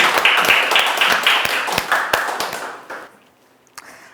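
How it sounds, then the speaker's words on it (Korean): Applause at a 2020 youth group activity report event, a fairly loud crowd of hands with sharp individual claps standing out, tapering off over the last second into near silence with one stray clap. "응원의 박수 부탁드리겠습니다."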